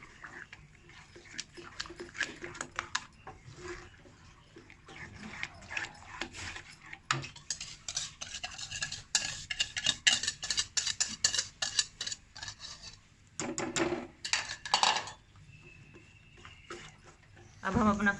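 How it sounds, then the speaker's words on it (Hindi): A spoon works quickly through halwa as eggs are mixed in, making rapid clinking and scraping against the pot in uneven bursts, with soft cooking noise between. "इस तरह हम स्पीड से इसको हिलाते जाएंगे।"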